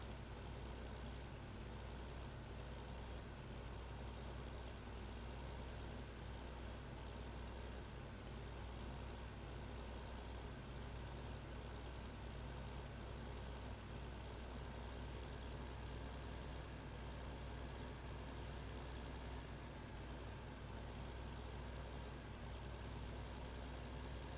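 Tractor hauling a swing yarder in the video game Farming Simulator 15, a steady low engine drone with constant rumble and no change in pace, alone for the whole stretch.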